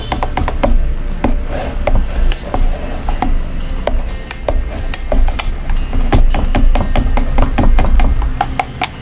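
Martabak batter is stirred in a bowl, giving a steady run of sharp clicking and tapping strokes of the utensil, close and fairly loud, with no talking.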